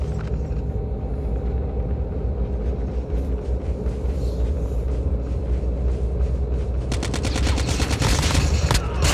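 Automatic weapon fire from a Call of Duty Mobile battle royale match, sustained bursts of shots rattling over a constant low rumble, growing denser and louder toward the end.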